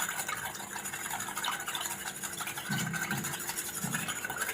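A spoon stirs sugar powder into half a cup of milk in a small bowl, making soft, quiet scraping and clinking swirls with a few low knocks toward the end, no talking.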